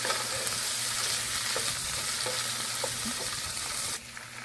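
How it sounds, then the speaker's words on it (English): Snow peas stir-fried in a hot pan for Chinese takeout-style fried rice: a dense, continuous sizzle with light periodic scraping strokes, close and even, dropping slightly in level just before the end. "So now I will be adding snow peas. And just stir it until they're a little bit soft."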